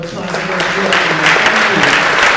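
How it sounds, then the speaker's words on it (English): Students and audience at a youth public speaking contest break into brief, loud applause, a short burst of clapping with some voices mixed in. "Would you please give them a nice round of applause?"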